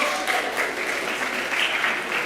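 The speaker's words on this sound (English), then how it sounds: "let's give him a round of applause" Audience members give a round of applause at a National Science Week 2024 event, dense even clapping that holds a steady level throughout.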